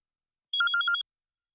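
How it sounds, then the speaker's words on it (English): A synthetic phone ringtone sample used in a music production plays a short burst of four quick bright electronic trills, about half a second long, clean and alone in silence. "I think this is just a phone."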